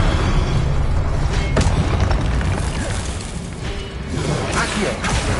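Fire spell effects from Hogwarts Legacy, a dense roaring blast of booms, whooshes and bursts running continuously and loud throughout, with repeated flaring impacts and no speech.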